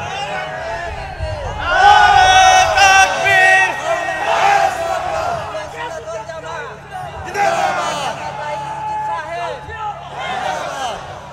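A crowd at an Islamic religious gathering shouting slogans in rising and falling waves of massed voices, loud and reverberant, with a leader calling out between the responses.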